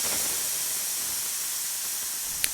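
A covered pot of tomato and moong dal soup coming to a boil, giving a steady, even hiss of steam throughout, with one faint tick near the end.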